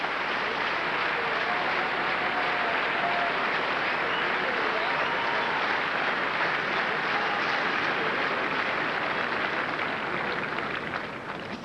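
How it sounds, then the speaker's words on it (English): A large tennis crowd at the 2005 French Open women's final ceremony, Justine Henin-Hardenne against Mary Pierce, applauds loudly and steadily for the whole stretch, a dense, unbroken wash of many hands clapping. "the champion applauding as well."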